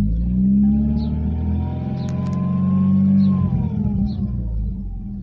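Mercedes-Benz CLK compressor car engine running near 2000 RPM as the supercharger clutch engages, a steady close engine hum with a faint whine that rises slightly and then settles.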